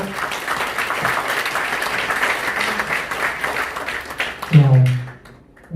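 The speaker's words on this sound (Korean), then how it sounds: "아낌없는 연주에 다시 한번 큰 박수 부탁드리겠습니다." A lecture-forum audience gives sustained, dense applause after a musical performance, steady for several seconds before tapering off, with a brief voice near the end.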